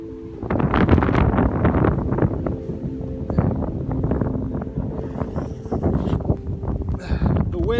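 Strong winter wind blowing hard around a tarp shelter amid snowdrifts, a steady loud roar with gusts buffeting the microphone, running continuously throughout.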